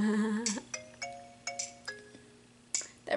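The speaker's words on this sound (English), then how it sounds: "That ringtone though." Phone ringtone playing a bright, electronic chime melody of short, ringing, bell-like notes in quick succession, close and clear with no talk over it.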